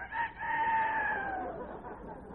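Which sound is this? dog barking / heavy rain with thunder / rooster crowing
rooster crowing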